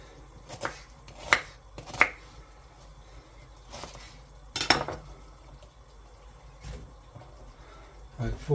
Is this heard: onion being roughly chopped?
yes